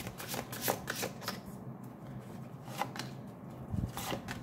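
A tarot deck shuffled by hand gives a close, soft, repeated riffling and flapping of cards in quick bursts with no speech over it.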